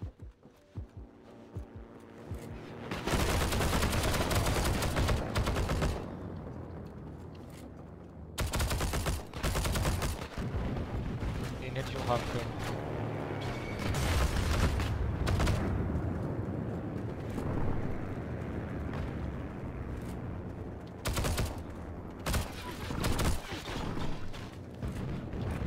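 Gunfire rattles through a Heroes & Generals match, with bursts of rifle and machine-gun fire and explosions coming in loud, dense stretches separated by brief lulls.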